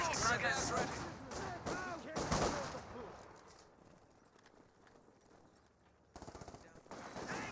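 In the real-time strategy game Company of Heroes 2, bursts of machine gun suppressive fire rattle in rapid chatter over battle noise. The firing is loud at first, then fades into a quieter stretch before a sharp burst returns.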